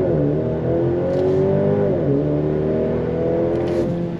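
A 2023 Maserati Grecale luxury SUV pulls away from a dead stop in automatic mode. The engine note climbs steadily and loudly from inside the cabin, with a brief dip at a shift, and no one speaks.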